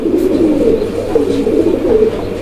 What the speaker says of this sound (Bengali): এই মুহূর্তে আমরা দেখাচ্ছি আরো একটা কবুতরের জোড়া